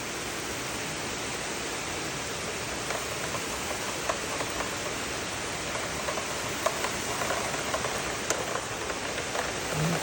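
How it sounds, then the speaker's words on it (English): Heavy rain pours steadily outside a house, a dense, continuous hiss with scattered drop impacts, even in loudness throughout and without any voices. "but today it's literally pouring."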